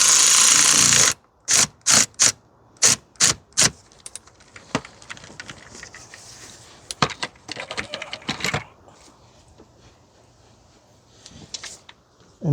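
Tightening the terminal nut on a 2005 Toyota Corolla 1.8 battery, a short run of sharp, regular ratchet clicks followed by softer scattered taps and handling noises.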